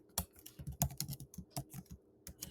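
Someone types on a computer keyboard while coding in Python, a quick irregular run of crisp key clicks with brief pauses, close and fairly quiet.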